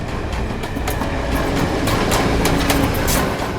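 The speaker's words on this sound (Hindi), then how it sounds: "ट्रेन की आवाज़ है ना कुछ?" Train rolling along railway tracks, a steady, continuous broadband rumble with faint clattering, filling the whole stretch at even loudness with no voices.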